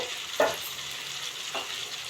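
Poha frying with tomatoes in a pan, a steady close sizzle with two brief scraping stirs of a spoon, no voices over it.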